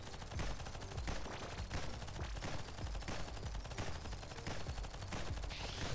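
Dense, continuous gunfire from a sniper rifle turned flak cannon in the game Nimrods Guncraft Survivor, rapid overlapping shots blazing nonstop at swarms of enemies with no speech.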